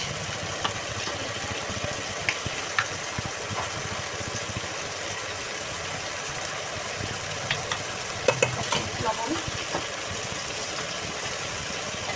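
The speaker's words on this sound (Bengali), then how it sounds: "নাড়াচাড়া দিয়ে একবারে ভেজে নিব" Food fried and stirred in a pan while hilsa fish curry cooks, giving a constant dense sizzle with a few faint scrapes and clinks, steady and close, alongside a low engine-like hum and no speech.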